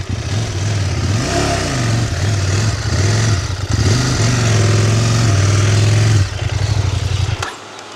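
Off-road adventure motorcycle engine braking as it rolls backwards down a slope, a loud close low chugging drone with the engine pitch rising and falling in uneven surges, no voices.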